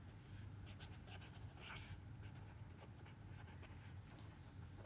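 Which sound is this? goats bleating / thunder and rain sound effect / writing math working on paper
writing math working on paper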